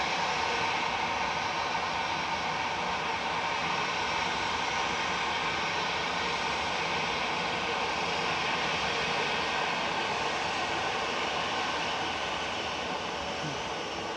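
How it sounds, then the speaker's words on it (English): An Airbus A380 arriving from Dubai crosses the runway threshold at Manchester Airport, giving a steady, broad jet roar that stays fairly constant and distant throughout. "A380 coming over the threshold now from Dubai with flight 21."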